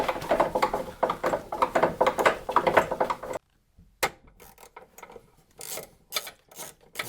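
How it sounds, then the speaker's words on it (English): A 1/4-inch hand driver with a square drive top works 10mm screws loose on a 2004 Yamaha Rhino engine: dense, busy scraping and clicking for several seconds, then a pause and scattered sharp clicks and knocks. "This is a handy little 1/4-inch driver that has a 1/4-inch square drive in the top, so you can break tight fasteners free."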